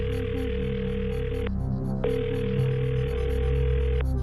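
A telephone rings on a television quiz show, two long electronic ring tones separated by a short pause, loud and clear with nothing else over them.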